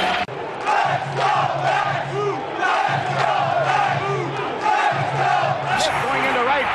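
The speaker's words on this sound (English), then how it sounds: "The applause for Don Seaver." A baseball stadium crowd roars and applauds steadily for pitcher Tom Seaver during his bid for a perfect game, a loud, dense wall of cheering with no break across the whole stretch.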